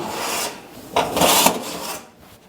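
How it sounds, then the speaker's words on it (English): Metal oven racks sliding out of a Whirlpool gas oven, a short close scraping rasp in two bursts, the second louder, with no talk. "Next thing you want to do is take out the oven racks."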